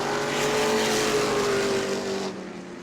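Modified race cars roar around New Smyrna Speedway, a loud sustained engine drone with a rising tonal whine that cuts off abruptly near the end, with no talking.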